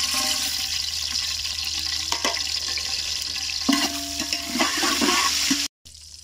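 Whole spices such as cumin, bay leaf, black pepper, cloves, cinnamon and dried chillies frying in oil outdoors, a continuous close hiss with scattered crackles and pops, ending in a sudden cut to silence.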